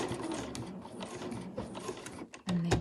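A domestic sewing machine stitches a machine cover in quick rattling bursts, its needle mechanism clattering fairly close, pausing briefly before a final louder run.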